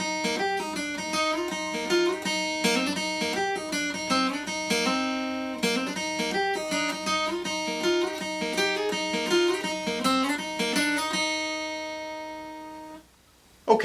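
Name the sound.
guitar playing song intro theme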